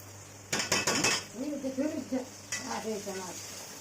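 Polao rice and vegetables go into a pot and are stirred, giving a cluster of metallic scraping clinks and then more stirring knocks, close by, while a voice talks.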